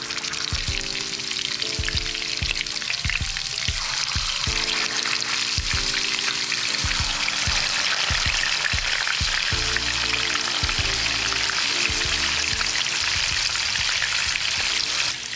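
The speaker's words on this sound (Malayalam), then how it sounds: "ഈ കാട ഇതിലേക്ക് ഇട്ട് ഫ്രൈ ചെയ്തെടുക്കാം." Quail frying in hot oil in a pan, a loud, dense, continuous sizzle that runs throughout, with repeated clinks and scrapes of a utensil against the pan and background music underneath.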